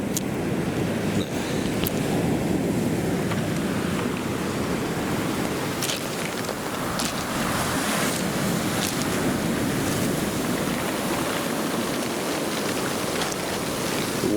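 Waves wash onto the beach at Birdlings Flat in New Zealand as the tide comes in, a continuous broad roar of surf with wind noise, close and loud throughout.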